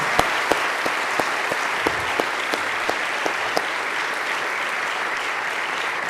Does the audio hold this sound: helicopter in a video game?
no